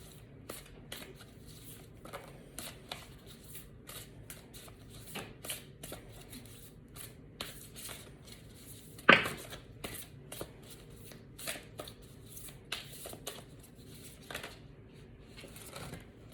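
A deck of animal spirit oracle cards is shuffled by hand, giving soft repeated riffling and flicking sounds up close, with one louder snap partway through and no speech.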